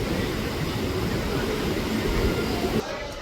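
Howrah–Amta local train pulling into Amta station, heard as a steady, loud low rumble that drops abruptly to a quieter hum near the end as the train comes in.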